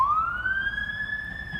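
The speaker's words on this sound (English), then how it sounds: "Ambulance. Ambulance." An ambulance siren wails outdoors, a single loud rising tone that holds steady as the vehicle passes fairly close, with no voices over it.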